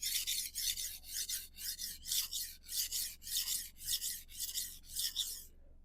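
A metal blade stroked across the 325-grit side of a sharpening stone: about ten even, rhythmic raspy scrapes, close and fairly quiet, with no talking.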